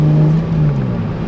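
A 1991 Toyota MR2 fitted with a 2GR engine revving, loud and close, a strong droning engine note that eases slightly downward and settles.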